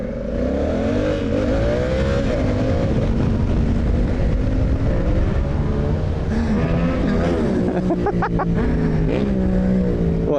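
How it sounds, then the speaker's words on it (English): A Yamaha MT-07 motorcycle engine revs hard in a street setting, a loud rasping drone with rising and falling pitch sweeps and sharp throttle blips near the end. "but the MT-07 does sound absolutely mental"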